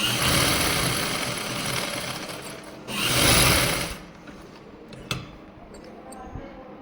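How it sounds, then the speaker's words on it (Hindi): A sewing machine runs a straight seam along the waistband of a salwar, a steady mechanical whirr with a louder burst partway through, then slowing to quieter handling noise. "पहले बेल्ट के ऊपर ही सिलाई लगाएंगे, यहाँ से शुरू करेंगे। एक सीधी सिलाई लगा देंगे।"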